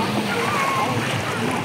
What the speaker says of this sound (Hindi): इतना स्पीड में पानी जा रहा है, देखो पूरा रोड पानी से बंद हो चुका है